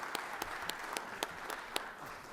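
Applause from the gallery of the Georgia Senate chamber, a handful of slow, evenly spaced claps ringing out about four per second, fairly distinct over a soft room murmur.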